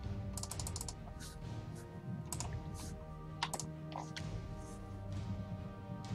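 A computer keyboard mashed with a face during PC gameplay, bursts of rapid clattering key clicks scattered over a continuous hum of game sound, close and moderately loud, no talking.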